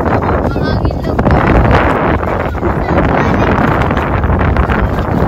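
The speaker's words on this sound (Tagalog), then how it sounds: "Yan ang hangin." Strong wind buffets the microphone at a beach at Aplaya, Calamba, Laguna, a loud continuous rumbling roar with gusts, while voices talk underneath.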